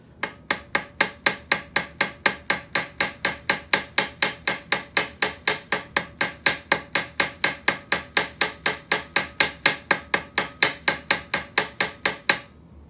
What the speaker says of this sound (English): I'm just going to hammer that a little bit.